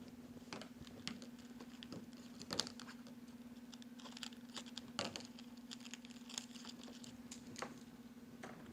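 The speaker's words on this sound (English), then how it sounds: "Now I'm going to cut my ribbon strips 12 inches in length." Wire edge ribbon being cut into 12-inch strips with scissors for a scarecrow wreath, giving scattered crisp snips and rustles over a steady low hum, fairly quiet and close, with no talking.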